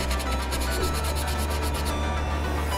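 A cloth rubs steadily across a painted wooden salt box prop, wiping away wet paint in a close, continuous scrubbing sound with a quick back-and-forth rhythm.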